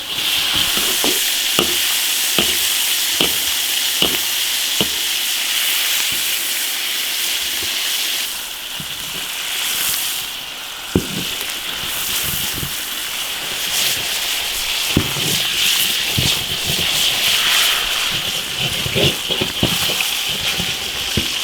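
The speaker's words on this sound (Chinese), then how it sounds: "把鱼煎入味儿" Fish, a whole longsnout catfish, sizzles steadily in hot oil in an iron wok with ginger, garlic and chili paste, a loud continuous frying hiss broken by repeated sharp clacks of stirring and turning, with no talking.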